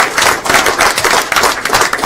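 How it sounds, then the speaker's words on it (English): A city council chamber gives a loud, steady round of applause to honor a long-serving staff member, dense overlapping clapping that carries through with no voices. "Let's give him a round of applause real quick."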